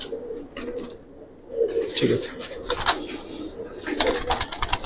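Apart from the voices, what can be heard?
pigeons cooing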